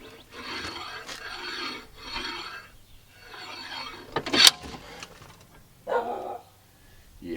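A slide hammer pulls a car wheel bearing: metallic scraping and rasping come in bursts, with a sharp clank near the middle and quiet gaps between, working close at hand.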